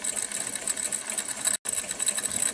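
A Jensen Model 25 toy steam engine runs its belt drive at full throttle, giving a fast, continuous whirring buzz like a sewing machine with a high-pitched whine. A brief dropout cuts it once.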